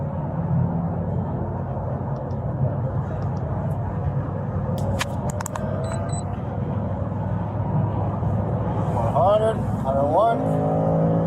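Road traffic rumbles steadily from inside a vehicle during a police traffic stop, with a car passing amid continuous engine and road noise, a few short electronic beeps, and a siren-like rising tone near the end.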